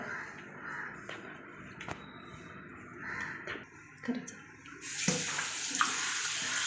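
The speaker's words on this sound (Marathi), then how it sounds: "आता आपण सुरमई स्वच्छ धुवून घेऊयात." Kingfish (surmai) pieces are washed in water with lemon and salt, producing a continuous splashing and running-water wash with louder sloshing toward the end.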